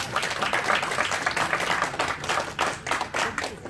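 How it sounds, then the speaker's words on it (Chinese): Audience at an evening installation ceremony giving a round of clapping, a moderate indoor applause of many hands, steady and fairly close throughout. "谢谢大家鼓励的掌声"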